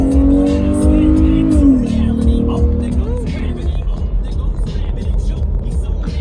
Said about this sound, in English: You got a tractor going down the road.